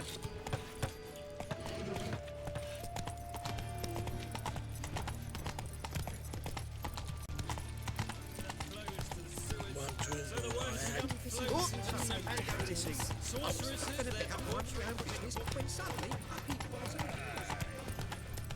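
Hooves of a galloping horse in Witcher 3 thud in a rapid, continuous rhythm under in-game music, with someone talking over parts of the ride.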